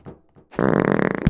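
A long, buzzy fart in the VR game Animal Company, preceded by brief muffled sounds and then sustained loud and close for under a second.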